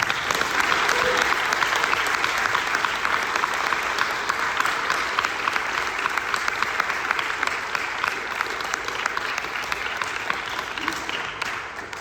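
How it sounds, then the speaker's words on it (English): Audience applause for chamber musicians before a performance, a long, steady wash of clapping from a sizable crowd that holds dense and even, easing off only slightly near the end. "Please give them a round of applause."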